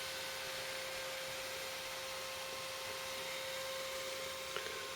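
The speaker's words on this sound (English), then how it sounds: "basically the noise you're hearing is just the CPU cooler" CPU cooler fan inside a Chenbro RM23608 rackmount server with a Supermicro X10SRi-F Xeon E5 board, a steady faint broadband whoosh with a thin constant tone, unchanging throughout.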